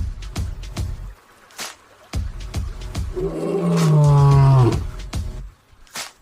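Male lion roaring in the African wild, a deep swelling roar building to a loud, sustained guttural peak, preceded and followed by quieter grunting pulses.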